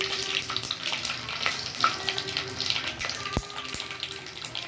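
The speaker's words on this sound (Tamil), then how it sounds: "கடுகு பொரிஞ்ச உடனே கடுகு பொரிஞ்சு அடங்கட்டும்" Mustard seeds splutter in hot oil for a homemade kalakai (karonda) pickle, a continuous hissing sizzle with scattered sharp pops and crackles close by, heard alone without talk.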